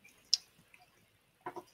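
A few drops of water fall into a glass of Highland Park 10-year-old single malt whisky, giving isolated soft drips and plinks separated by quiet gaps, close and small.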